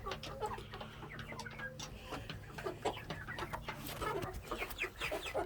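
Backyard flock of chickens, including a rooster and young Ameraucana birds, clucking and chattering continuously at close range, with overlapping calls and a few sharper squawks over a steady background hum.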